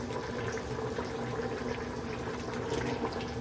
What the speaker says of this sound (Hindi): चूल्हा स्लो करते हैं और दही डालते हैं।